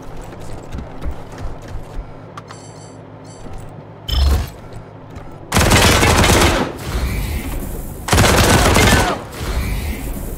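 Gunfire in the Wasteland 3 video game, two heavy bursts of shots ringing out loud and close after a quieter stretch of mechanical clicks and a brief thud, with the second volley cut off abruptly.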